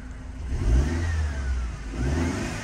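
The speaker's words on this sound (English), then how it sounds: "and if you rev it" A 2013 Mercedes-Benz C250 (W204) engine is revved twice in quick succession, each blip rising and falling, heard up close with no talking.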